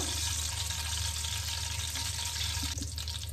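Cumin seeds crackle and fry in hot oil in a pan just used for frying bitter gourd. The sizzle is close, dense and continuous, with no talk.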